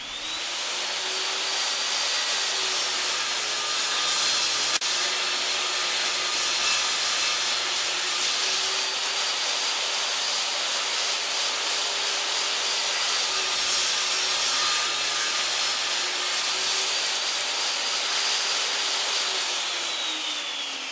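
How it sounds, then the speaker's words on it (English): A saw rips wooden side rails to a width of 3 inches, a continuous loud whining cut that holds steady for about twenty seconds, close up, with no voices. "The first thing we need to do is rip each side rail to a width of 3 inches."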